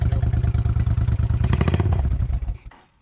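Old motorcycle engine with no air box, running briefly on a temporarily mounted battery, a loud, close, rapid clattering putter that rises slightly in the middle, then cuts off and fades to silence.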